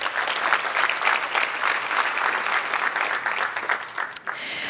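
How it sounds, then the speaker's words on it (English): An audience at a celebration luncheon breaks into a sustained round of applause, dense steady clapping from many hands that carries on at even strength throughout. "this deserves a recognition and a round of applause."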